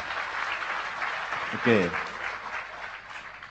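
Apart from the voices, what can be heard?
audience applause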